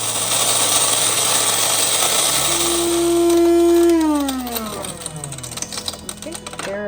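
An electric mixer or grain mill runs for freshly milled wheat berry flour and sourdough starter, a loud steady mechanical whine that holds, then spins down with falling pitch and clattering, with talking underneath.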